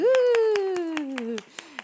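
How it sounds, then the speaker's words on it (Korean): A church congregation at a thanksgiving service claps in quick, steady rhythm beneath a long, drawn-out voice that fades after about a second and a half. "격려의 박수"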